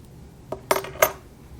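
Scissors snip six-strand embroidery floss during cross stitch work, giving two or three crisp, close metallic clicks in quick succession against a quiet room.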